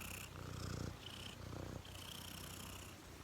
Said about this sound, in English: Do you guys hear that intense purr?